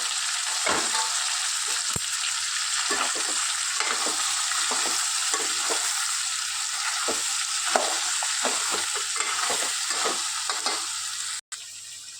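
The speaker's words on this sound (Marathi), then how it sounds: "सगळी चिंबोरी टाकून घ्यायची" Crabs frying in a pan with a ginger-garlic paste, a steady loud sizzle broken by repeated scraping stirs throughout, with no voices.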